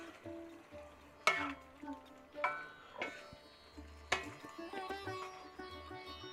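Potatoes and cauliflower are stirred into curry sauce for aloo gobi, with quiet, intermittent spoon scrapes and clinks against the pan over a faint sizzle.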